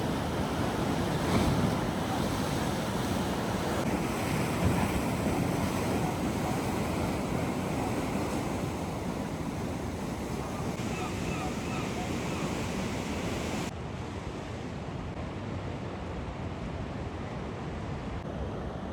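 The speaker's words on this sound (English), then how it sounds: "Unusual to see breakers so far out." Waves break steadily at Bridlington Harbour, a broad continuous wash of surf mixed with wind buffeting the microphone, fairly faint and unbroken throughout with no talk.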